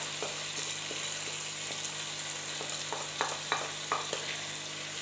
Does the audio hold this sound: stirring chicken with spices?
yes